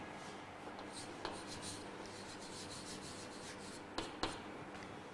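Chalk or marker scratching and rubbing on a board during a science lesson, a steady close scraping texture with a couple of sharp taps near the end, no talking.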